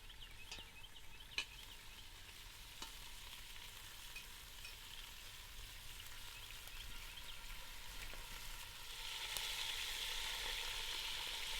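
Steak and onions fry over a campfire outdoors with a faint, steady sizzle and occasional soft clicks, the hiss growing slightly louder toward the end, with no voices.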